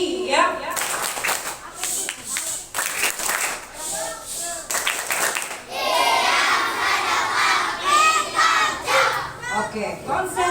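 Schoolchildren at a Ramadan class clap in quick rhythmic bursts, then break into loud excited shouting and chatter as a crowd, close and lively.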